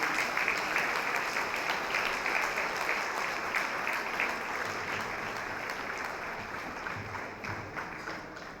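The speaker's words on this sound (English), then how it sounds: "Please give him a round of applause." Steady applause from an event audience at an evening gathering as a man is called onto the stage, a continuous even patter of many hands, moderately distant and fairly quiet.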